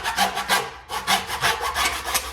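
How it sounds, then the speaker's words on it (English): Hacksaw blade cutting through thin plumbing tubing for a faucet drain install, about eight quick rhythmic back-and-forth rasping strokes, close and alone. "This I have just a hacksaw blade."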